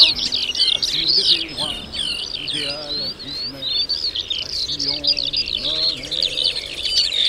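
Many birds singing and chirping continuously on wild, overgrown former airport land near Saint-Brieuc, with several bright overlapping songs close by and a steady outdoor background.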